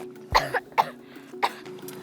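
Three sharp, close coughs with short gaps between them, heard alone over a faint steady hum.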